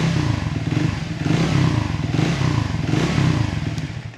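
A Triumph Tracker 350 motorcycle engine runs at normal rpm, a close, loud, bassy throb with crisp pulsing beats and slight rises in revs, heard alone without talk.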